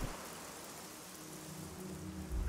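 Steady rain falls across the landscape in the video game Generation Zero, a soft continuous hiss with no voices, swelling slightly louder toward the end.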